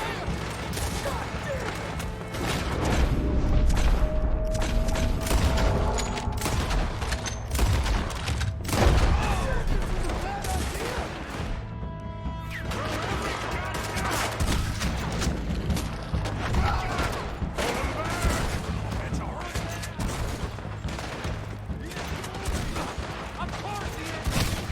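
A Red Dead Redemption 2 shootout fills the air with dense, overlapping gunfire, sharp cracks and heavy booms repeating throughout, while voices shout and talk over the battle.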